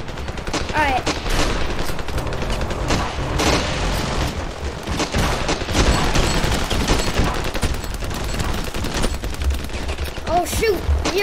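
Heavy gunfire fills a Ravenfield video game battle: dense, continuous bursts of automatic fire and booming blasts, loud and sustained throughout, with shouting voices mixed in.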